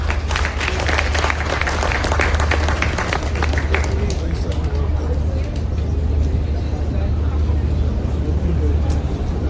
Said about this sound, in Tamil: நல்ல கைத்தட்டல் கொடுத்துடலாம்.